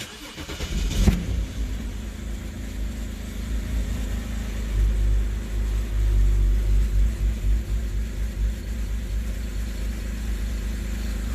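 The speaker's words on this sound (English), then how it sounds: "Let's try to start the cars." A BMW N52 engine with a rough idle problem cranks and catches, then settles into a steady low rumbling idle that continues for several seconds with slight fluctuations.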